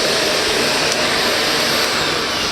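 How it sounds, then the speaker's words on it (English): A household vacuum cleaner runs steadily and loudly at close range, a constant broadband roar with no pauses or voices. "turn off the vacuum"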